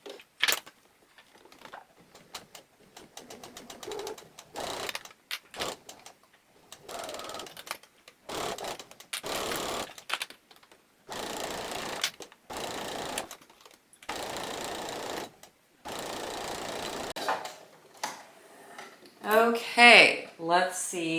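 A home sewing machine stitches a fall dress in repeated bursts of rapid mechanical clatter, starting and stopping every second or two, with brief talking near the end.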